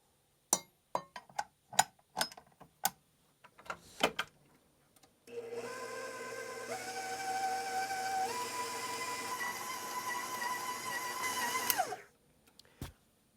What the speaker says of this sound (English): Now we'll put this on the stand mixer and start building some gluten before we add the butter.